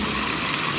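Water poured into a hot pan of frying gyozas, a steady loud hissing gush that fills the whole short moment without pause.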